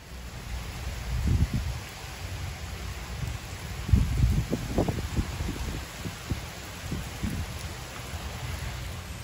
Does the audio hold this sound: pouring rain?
yes